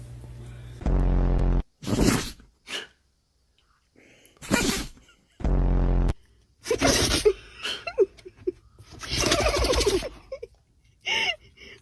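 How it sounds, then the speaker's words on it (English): Several loud, sharp sneezes burst out one after another with short gaps between them, close and alone, and a few softer gasping breaths come in between. "There's nothing quite like a good sneeze, right?"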